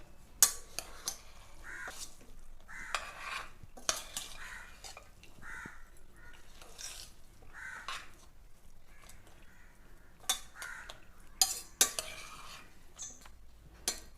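A spoon stirs paneer biryani with carrots and cashews in a pot. Quiet, irregular scraping and clinking strokes repeat against a faint, low background.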